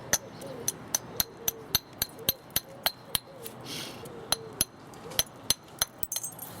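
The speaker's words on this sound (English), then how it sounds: "My trusty awful old hammer doing the business." A hammer strikes English flint while knapping a large thin biface, sharp clicking taps repeating at an uneven, fairly quick rhythm, close and crisp against a quiet background.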